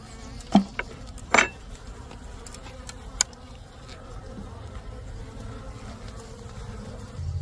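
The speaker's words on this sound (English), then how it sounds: "I mean, there's a lot of bees on here." Faint honey bee buzzing hums throughout at a beehive, with a couple of sharp clicks and a brief louder buzz near the start; no one speaks.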